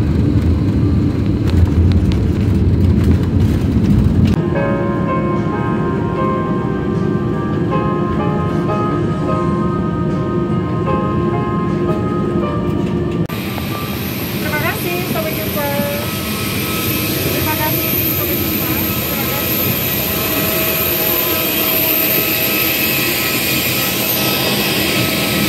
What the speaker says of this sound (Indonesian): ini kita sudah landing di Bandara Soekarno-Hatta.